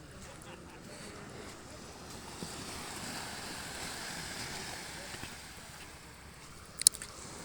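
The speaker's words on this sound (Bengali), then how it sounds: "সমুদ্রের গর্জন শুনতে পাচ্ছি" Sea waves at Katka beach in the Sundarbans give a steady, distant broadband roar mixed with wind, holding level throughout, with a brief sharp click near the end.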